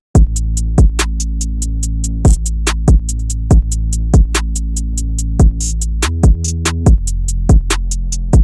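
A loud, punchy UK rap beat of deep booming bass kicks with sharp clicks, repeating in a bouncy, steady rhythm with a sustained low bass underneath.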